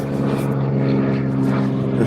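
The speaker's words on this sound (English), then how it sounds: "we got an airplane overhead" A propeller airplane drones overhead above a boat on the water, a steady low engine hum that fills the whole stretch without pause, moderately loud with no voices.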